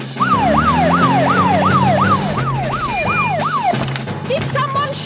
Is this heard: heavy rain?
no